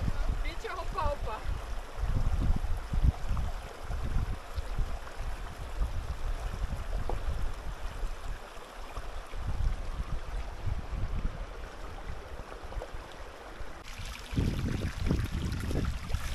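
Mountain stream in the Romanian mountains, water rushing and gurgling steadily throughout, broadband and fairly close, with wind and occasional handling noise mixed in.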